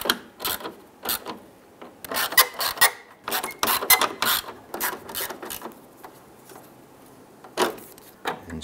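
Screws are snugged down on the headlight bezel of a 1995-2001 Ford Explorer, giving a run of close, irregular ratcheting clicks and short scraping turns with brief pauses.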